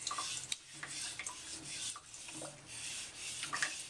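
A Moritaka kitchen knife scrapes back and forth on a whetstone in quick, close, rhythmic gritty strokes, each pass a sharp hissing rasp repeating several times a second.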